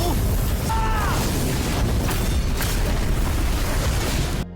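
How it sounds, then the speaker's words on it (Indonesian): A loud, sustained explosion effect from an animated martial-arts fight, a dense roaring blast of noise that holds for over four seconds before cutting off abruptly, with a brief whooshing tone early on. "Pada puncaknya sebuah ledakan pun tercipta."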